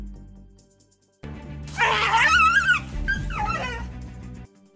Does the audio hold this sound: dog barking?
yes